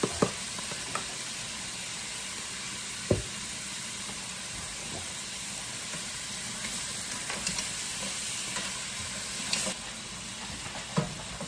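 Mussels sauté with oyster sauce in a hot pan, a continuous loud sizzle and hiss with scattered sharp clinks and scrapes as the food is stirred.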